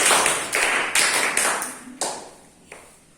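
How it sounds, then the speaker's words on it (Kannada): Several sharp, close hand claps in a quick, uneven rhythm, with the claps thinning out to a couple of isolated ones toward the end. "ಚಪ್ಪಾಳೆ."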